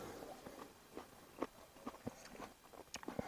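Biting into and chewing a crunchy, juicy, thin-skinned berry of the Alinka hybrid grape form, heard as a few quiet, close crisp crunches and soft mastication in irregular bursts.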